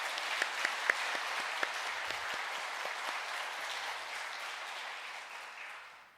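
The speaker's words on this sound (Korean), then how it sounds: "우리 다시 한번 박수로 하나님께 영광 돌리겠습니다." A church congregation applauds together to glorify God after a hymn, a steady wash of many hands clapping that fades out gently at the end.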